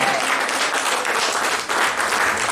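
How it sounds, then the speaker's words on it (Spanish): A church congregation claps and applauds together during a service, dense and steady throughout a short burst. "¿Cuánto le pueden dar una ofrenda de palmas al Santo Espíritu de Dios, hermano?"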